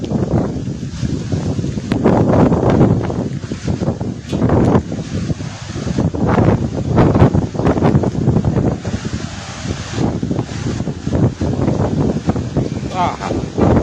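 Storm wind gusts roar and buffet the microphone continuously in a thunderstorm, with rustling and rushing noise throughout and voices talking underneath.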